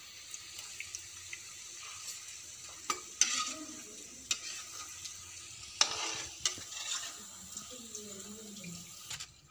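Banana vada fry in hot oil with a soft, even sizzle, broken by occasional clinks and splashy bursts from a utensil, fairly quiet and with no talking.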